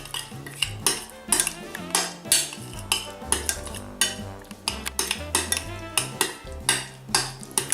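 Egg salad with marjoram stirred in a bowl, a close series of rhythmic metal-on-bowl clinks and scrapes from the utensil, repeating steadily throughout with no talk.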